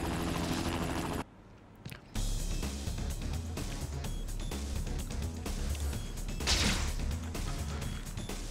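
Game helicopter from Spider-Man 2 on PS2, a loud steady rotor drone running under dense action sound effects and music, with a brief near-silent gap early on before the din resumes at full strength.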